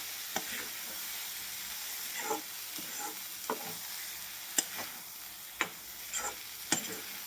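Usal, a Maharashtrian sprouted-bean dish seasoned with salt, is stir-fried in a pan. A soft continuous sizzle runs under a series of distinct spatula scrapes and knocks, spaced about a second apart, all close and fairly quiet.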